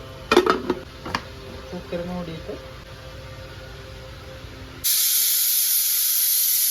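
A pressure cooker holding a payasam of chana dal, banana, ghee and coconut milk bursts into a loud, steady, close hiss of escaping steam that drowns out the quieter kitchen clatter before it.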